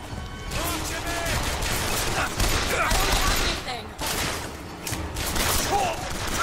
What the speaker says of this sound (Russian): Кто? Кто стреляет?